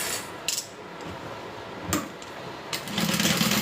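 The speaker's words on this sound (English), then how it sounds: "now I'm just going to do a little top stitch on this bottom part" A sewing machine top stitches the bottom part of a wallet. Light handling clicks come first, then the motor runs in a steady close hum near the end.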